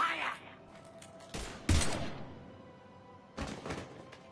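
Gunfire in the video game Mass Effect 3, a few sharp loud bursts spaced apart over quieter game ambience, with voices briefly in the mix.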